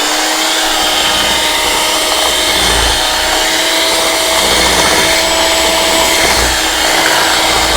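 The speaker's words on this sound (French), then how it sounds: "Je vais mixer." Electric mixer blending waffle batter, a loud continuous whirring motor drone with a steady tone, running alone without pause.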